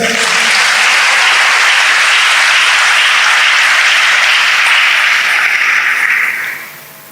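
A church congregation bursts into sustained, dense applause, loud and continuous for several seconds before tapering off at the end.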